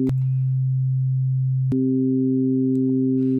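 Synthesizer oscillator tones under amplitude modulation, pure sustained pitches that switch to a different, richer pair of tones partway through, clean and steady with no talking.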